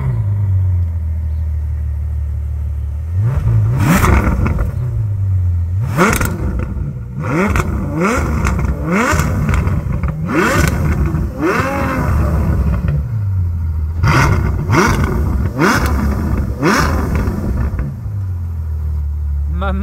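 Ferrari F12 driven on the road, the engine revving hard through repeated rising and falling sweeps as it accelerates and shifts, loud and close, with speech over parts of it.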